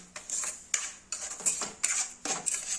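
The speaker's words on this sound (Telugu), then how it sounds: "ఇలా తిప్పుతూ ఉండాలి కొంచెం లైట్గా బ్రౌనిష్ కలర్ వచ్చే వరకు వేయించుకుంటూ ఉండాలి" Semolina (rava) being stirred while it roasts in a pan for kesari, a spoon scraping and tapping the metal in repeated strokes roughly every half second, close and moderately loud, with no talking.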